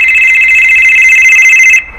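An iPhone rings with a steady electronic tone, loud and close, holding unbroken for almost two seconds before cutting off abruptly.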